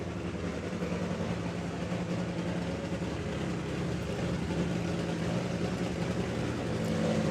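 Nitro drag racing car with a 500 cubic inch V8 Hemi making roughly 10,000 horsepower at a drag strip, heard as a steady, dense engine roar at a distance, broad and unbroken with a slight swell toward the end.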